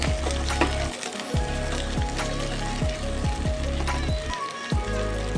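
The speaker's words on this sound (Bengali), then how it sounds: "এবার একটু সবজিগুলোকে ভালো করে ভেজে নেব।" Small pieces of pumpkin, white brinjal and skin-on potato fry in hot oil with a loud, continuous close sizzle, broken by regular scraping thumps of stirring; no one speaks.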